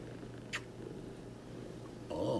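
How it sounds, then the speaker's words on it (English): A happy female house cat purrs in a soft, continuous low rumble, broken by a brief click early on and a louder rustling burst near the end. "Oh my goodness, listen to the purr."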